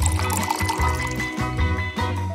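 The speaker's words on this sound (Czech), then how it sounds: "Naliju to do sklenice, to už je lepší." Water pours into a glass in a steady gurgling stream, close and continuous for a couple of seconds, with small dips in flow and a faint ringing of the glass.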